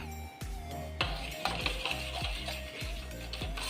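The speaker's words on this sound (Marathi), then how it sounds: "हे चमच्यानंच असं फेटून घेऊ आपण." Thick curd for dahi vada whisked by hand with a spoon in a bowl: a steady series of close, clinking scrapes and taps repeating roughly every half second, with no talking.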